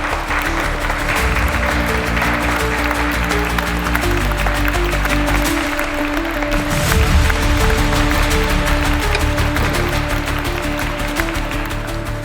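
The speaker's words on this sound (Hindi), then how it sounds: "तालियां।" Loud applause breaks out during a TV crime drama scene at an auction, dense clapping that runs steadily for about twelve seconds alongside a sustained music or tonal bed underneath.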